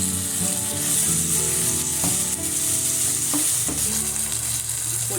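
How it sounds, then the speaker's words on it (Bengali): A spice paste of ginger, turmeric, cumin and chili with chopped tomato and water sizzles loudly in a pan during cooking for a Bengali banana-flower dish, with a constant close hiss and occasional stirring scrapes. "জল দিয়ে মশলাটাকে কষিয়ে নেব।"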